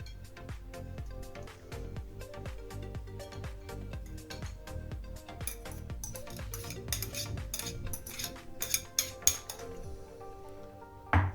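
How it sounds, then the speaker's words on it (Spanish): Spoon or utensil working dough ingredients together in a bowl for a torta 80 golpes, a run of soft scraping taps that builds into quicker, louder clinks against the bowl toward the end, with no talk. "Y ahora sí, mezclamos bien, que se unan todos los ingredientes, perfectamente homogeneizados"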